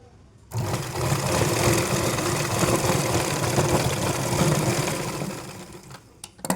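A sewing machine stitches the fall onto a saree, running in one steady, close whir for about five seconds before stopping with a few clicks.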